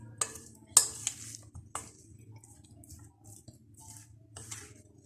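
A potato and chicken mixture is stirred and mixed in a bowl, giving soft scraping and a few sharper clinks of a utensil against the bowl, quiet and close, with no talking.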